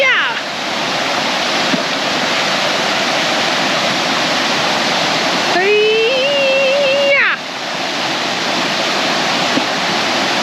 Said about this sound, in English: Throw them at the waterfall.